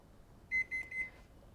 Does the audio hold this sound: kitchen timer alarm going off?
yes